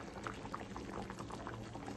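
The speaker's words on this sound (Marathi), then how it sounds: "आपल्या सांबरला आता छान अशी उकळी फुटलेली आहे" Sambar with coriander stirred in bubbles at a rolling boil in a pot, a soft continuous burble of popping bubbles heard close but faint, with no talk.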